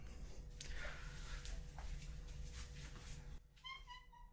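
A pet cat gives a short, faint meow near the end of the clip, heard over a hushed, close, breathy background.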